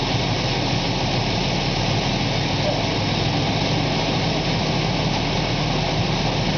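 A truck engine idles smoothly after an intake manifold cleaning, a loud, steady, unbroken rumble with broad hiss that holds constant throughout, with no talk over it.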